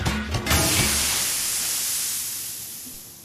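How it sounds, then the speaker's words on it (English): A gas canister in the Shadowrun Hong Kong video game bursts into a loud, steady hiss of sprayed vapor that begins after a brief clattering start and slowly fades over a few seconds. "The metal tube erupted, spraying out a hissing stream of concentrated vapor."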